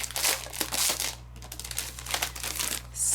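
Paper packaging for a craft bundle being torn open and handled, with close crinkling and rustling in repeated bursts and a brief pause midway.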